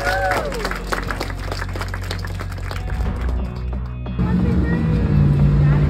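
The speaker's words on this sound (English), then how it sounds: "Give them a round of applause" A crowd gathered outdoors at a Sheetz grand opening applauds briefly. Passing vehicle engine noise and nearby voices run underneath, and a louder engine rumble comes in toward the end.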